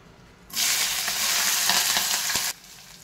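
Green chillies drop into hot oil with mustard seeds and cumin, bursting into a loud, sudden sizzle that holds steady for two seconds and then cuts off abruptly.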